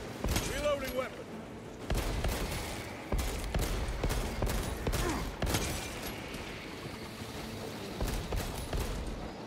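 Gunfire in the Space Marine 2 video game: rapid bursts of shots crack through continuous heavy battle noise, with loud spaced impacts over a dense roar and voices talking throughout.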